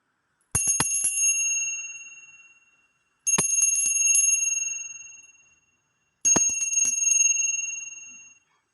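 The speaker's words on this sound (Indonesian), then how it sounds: "di sini kita akan memulai dengan ditandai lonceng berbunyi" Three separate rings of a small bright bell marking the start of a tarot reading, each a sharp strike followed by a shimmering ring that decays over about two seconds, evenly spaced with silence between them.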